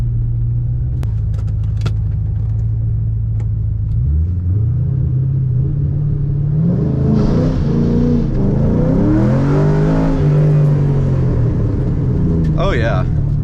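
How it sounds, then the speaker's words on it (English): A Ford Mustang on warmed tires launches hard, its engine rumbling at a steady idle before the revs climb and surge in a loud, rising roar, with a voice talking over the engine noise inside the car. "Let's try the launch again"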